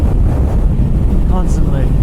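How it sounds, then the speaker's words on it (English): Heavy wind roaring into the microphone while riding a Kawasaki Z900 motorcycle, a constant low buffeting rumble with faint traces of a voice underneath. "Yo, it's so windy."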